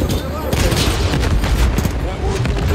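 Dense, continuous automatic gunfire and booming shots from a firefight in the Call of Duty: Modern Warfare III campaign, set in a frozen tundra, are loud and close, with rapid bursts overlapping throughout.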